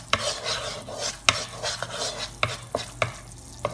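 Tikhur being stir-roasted in a pan for a housewife's daily recipe: dry scraping of the stirring spoon with sharp clicks and knocks against the pan at an irregular rhythm over a light sizzle, close and fairly quiet, no talking.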